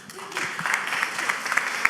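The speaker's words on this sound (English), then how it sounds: "Stop clapping." An audience at a tech workforce town hall in Atlanta applauds in a run of close, crisp claps lasting about two seconds, with a voice talking over it.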